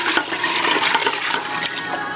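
About five cups of water pour from a big bowl into a soup pot, a loud, steady gushing splash lasting a couple of seconds with no talk over it.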